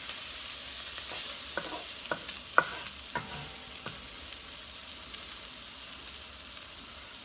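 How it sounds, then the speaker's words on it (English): Vegetables and kielbasa are stirred through hot fat in a pan, giving a steady close sizzle with a few sharp scrapes and clicks of the utensil against the pan. "Mix that up, cover it with the fat if you can"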